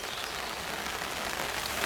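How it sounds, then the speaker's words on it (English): Steady rain patters on surfaces beside a carp fishing lake at Horcott Lakes, a dense, even hiss without voices. "This rain might stop play"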